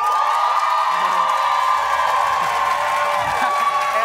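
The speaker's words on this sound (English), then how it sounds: "By applause, let me hear Alora's fans out there." A crowd at a Mardi Gras car decorating contest cheers and claps for one contestant's fans, a loud continuous roar with shouts and whoops layered over steady applause.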